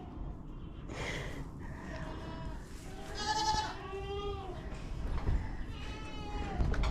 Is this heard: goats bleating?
yes